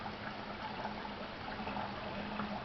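Water is poured steadily into a container, a continuous hissing, splashing stream that holds an even level for a few seconds with no talk over it.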